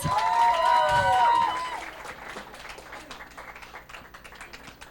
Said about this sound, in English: Can you have a round of applause for all of us?